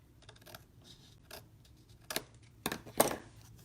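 Scissors cutting card for a handmade wiper card: a few quiet snips and crisp clicks, with the sharpest cuts near the end, close and isolated in a quiet room.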